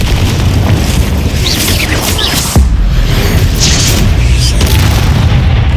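Booming magical blasts of the Confringo fire spell in Hogwarts Legacy, a loud dense rumble with a sharp impact midway over continuous game noise.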